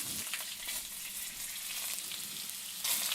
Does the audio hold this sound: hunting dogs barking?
no